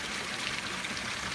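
Water scooped from a bulk supply into a watering can for wetting compost makes a faint, continuous trickle and splash, quiet and even throughout, with no talking.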